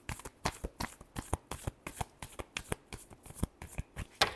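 Tarot cards are shuffled close up in a rapid, regular series of sharp papery slaps and riffles, steady throughout with no voices.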